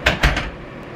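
A household door opening or closing with a few quick knocks and a thud close by, followed by a quiet tail with no voices.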